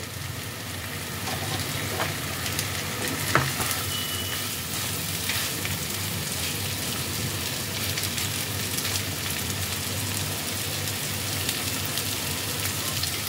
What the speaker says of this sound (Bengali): পনিরের টুকরোগুলোকে বাটারের মধ্যে ভালো করে ভেজে নিতে হবে।